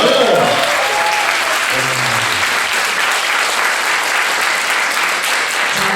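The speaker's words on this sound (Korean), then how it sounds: "우리 안시준 대표 여러분 큰 박수 부탁드리겠습니다" A talk-show audience breaks into loud, sustained applause for a guest, a thick continuous roar of clapping close by, with a brief voice and a few tonal sounds at the very start.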